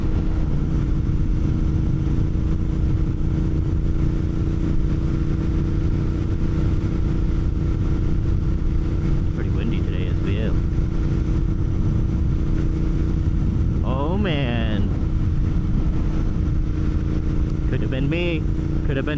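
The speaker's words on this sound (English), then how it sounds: "I'm on my motorcycle right now" Motorcycle ridden through Chicago streets on a cold winter day, a steady close engine drone running throughout with a rider speaking intermittently over it.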